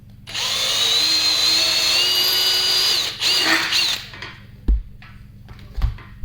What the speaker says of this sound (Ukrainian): І на тій же відстані крутимо отвір з іншого боку.